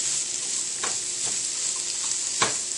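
Minced garlic sautés in a pan for a vegetarian chili, a steady bright sizzle with a few soft stirring knocks, close and even throughout.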